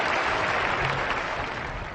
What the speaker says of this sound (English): let's cheer Lucy